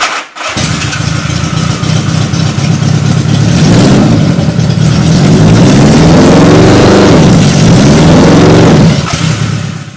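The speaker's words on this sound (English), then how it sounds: "I found I could simulate riding the bike by putting the bike up in the air, running it, while simultaneously applying the rear brake." A motorcycle engine runs loud and close with the bike raised on a stand and its rear brake held on, rumbling steadily and bogging down slightly as the load builds, with no talk.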